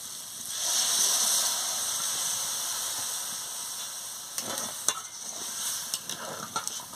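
Lentils frying in a pan sizzle loudly up close, then water is poured in, and the hiss softens into bubbling with scattered scraping and clinks of stirring.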